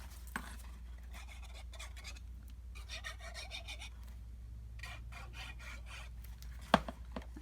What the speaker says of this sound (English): I'm just going to trim off a little on both sides